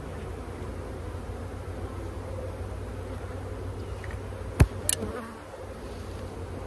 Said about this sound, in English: Oh, they're getting angry.